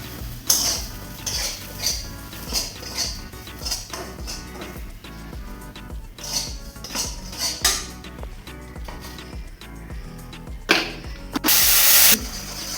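A utensil scrapes and clanks against a pot while a thickening cooking mixture is stirred, steady rhythmic metallic strokes up close, ending in a brief hissing burst.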